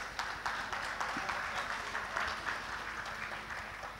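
At an inauguration ceremony, the audience gives steady applause as a dignitary is welcomed onto the dais, a continuous bed of clapping at moderate distance.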